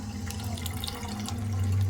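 Milk poured from a second half-litre packet into a pot for pudding, a close liquid splash and gurgle with a steady low hum underneath, building slightly toward the end.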